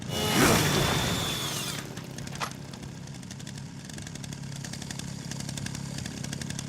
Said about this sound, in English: I want to keep this chainsaw for as long as I can.